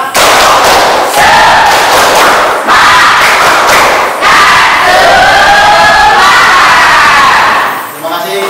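A group performs a rhythmic spirit clap (tepuk semangat), very loud and close, with bursts of synchronized clapping and shouting voices in a driving pattern that fades at the end.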